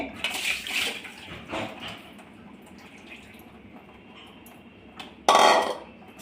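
Soaked rice for anarse being rinsed and swished in water, with sloshing, splashing and soft clinks of a vessel, close by, then a louder gush of water near the end.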